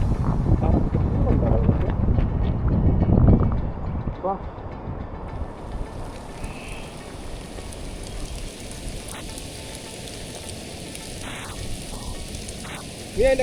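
Rain falls steadily on a hilltop in Kerala, a soft continuous hiss under louder voices and movement in the first few seconds, then quieter rainfall with scattered brief sounds.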